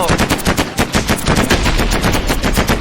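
Rapid automatic gunfire in the Mini World space-war game as players fire at the enemy mothership, loud, dense and continuous bursts throughout.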